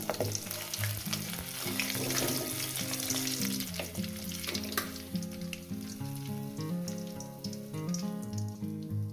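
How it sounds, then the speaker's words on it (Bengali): Katla fish belly pieces frying in hot oil, a steady dense sizzle running throughout with crackling bursts and some clattering of utensils, loud and close. "মাছগুলো ভাজা হয়ে গেছে এই মাছগুলো তুলে নিলাম"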